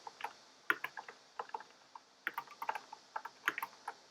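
Python code is tapped out on a computer keyboard in quick, irregular bursts of soft clicking keystrokes, close and quiet with short pauses between runs.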